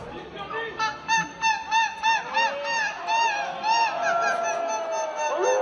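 A contestant at a world seagull-cry championship imitates a gull with his voice, giving a run of rhythmic, honking, wavering cries repeated over a noisy, chattering crowd.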